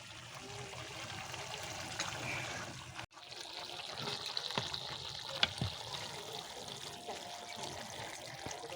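Pointed gourd greens simmering in a pan: a faint, steady bubbling and sizzling hiss with a brief interruption and a few soft clicks, close by and quiet.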